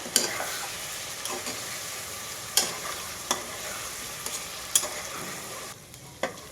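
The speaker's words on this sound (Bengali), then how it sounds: "কুচা পেঁয়াজের সঙ্গে আমি আদা রসুন বাটাটা খুব ভালোভাবে কষিয়ে নেব।" Chopped onion with ginger-garlic paste sautés for a mutton kosha, a quiet steady sizzle broken by sharp, irregular spatula scrapes and taps against the pan.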